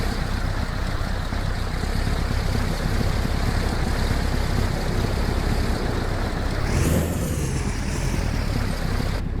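A truck engine drones loudly and continuously while driving in the video game American Truck Simulator, a steady low rumble with a brief whooshing rise near the end.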